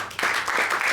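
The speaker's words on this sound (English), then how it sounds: "I think you should give a round of applause to your club." Club members give a short round of applause that breaks out suddenly and carries on as steady, close clapping for under a second.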